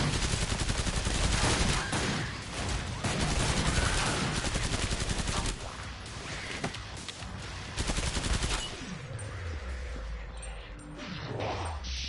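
Dense, continuous automatic gunfire fills a Killing Floor 2 fight on PS4 Pro, with loud overlapping bursts and crashes that thin toward the end, then settle into a lower roar.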